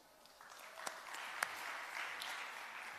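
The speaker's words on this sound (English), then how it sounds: "Please, a round of applause, Judith, Landforce Energy." A conference audience at an energy session applauds faintly and steadily, a soft wash of distant clapping with a few sharper claps standing out.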